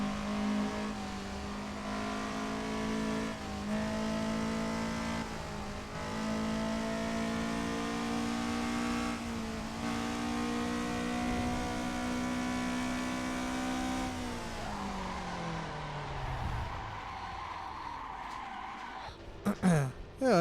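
A video game car race plays as cars overtake, with engines droning steadily and revving at changing pitch. Tires screech near the end, and the sound stays moderately quiet and continuous throughout.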